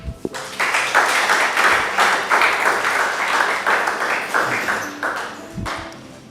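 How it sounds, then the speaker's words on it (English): An audience gives sustained, even applause after a motivational talk. It is heard up close for about six seconds, with a few stray claps trailing off at the end. "May we give a round of applause again to our speaker, Mr. Henri-Fabrice."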